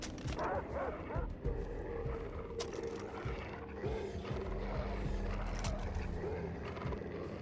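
Dogs bark and yip in Far Cry 3 amid busy game sounds, several sharp barks scattered across the clip with a steady background din.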